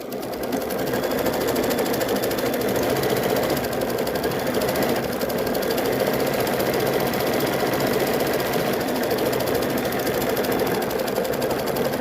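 Embroidery machine stitching a quilting design in the hoop, a fast, steady mechanical rattle and whir running continuously at even loudness, close by and with no talk over it.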